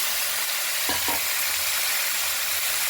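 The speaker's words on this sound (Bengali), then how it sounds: "এগুলো একটু ভাজা করে নেব।" Pointed gourd fries in a pan with onion, garlic and green chili, giving a dense, steady sizzle close by and a couple of brief clicks in the middle.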